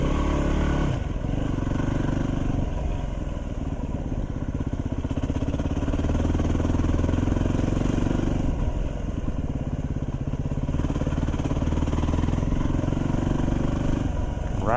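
A motorcycle engine runs steadily nearby, rumbling and shifting in pitch as it rides along a trail near Fairbanks, Alaska, with clattering over rough ground.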